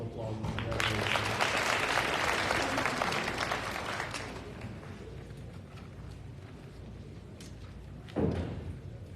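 A school senior assembly audience gives a round of applause, with broad clapping that is strongest for the first few seconds and then thins out. A brief thump comes near the end.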